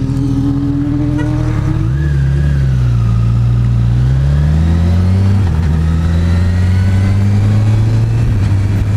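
A 2014 Honda CBR 1000 RR Fireblade sportbike engine revs up loud and close, its pitch climbing and dropping through successive gear changes in a continuous roar.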